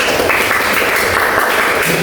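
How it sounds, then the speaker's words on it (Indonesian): A classroom bursts into brief applause after group presentations, a dense clatter of many hands clapping together for about two seconds. "Tepuk tangan semuanya."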